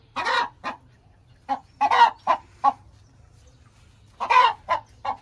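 Brahma Polaco chickens, large hens alongside a rooster, clucking in a farm pen; several loud, close bursts of clucking come in irregular clusters with short quiet gaps between them.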